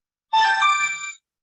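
A single short burst of an electronic phone ringtone from an incoming call, a bright chiming tone lasting under a second, clear and alone against silence.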